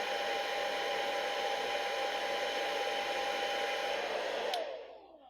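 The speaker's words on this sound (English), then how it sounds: "Turn off the hairdryer, let it cool off." Hair dryer blowing steadily on a thermistor in an electronics lab, a close, even whoosh that runs alone for several seconds before being switched off and winding down.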